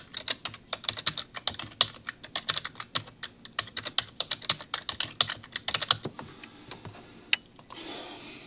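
Rapid clicking keystrokes on a computer keyboard, close and crisp in irregular bursts of typing, trailing off into a few scattered taps near the end.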